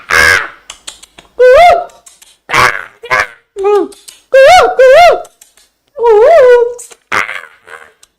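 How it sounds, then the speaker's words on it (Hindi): A crow caws repeatedly, loud and close, the harsh calls arriving in irregular bursts separated by short gaps, with a few brief voice-like sounds between them. "जैसे कौआ है"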